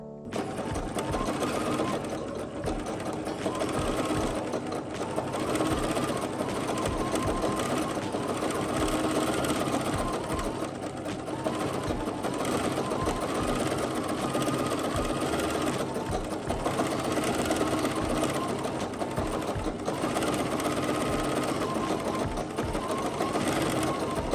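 A sewing machine quilts a Christmas tree skirt, running steadily and loudly close up with a fast mechanical whir and needle chatter that barely pauses for nearly half a minute.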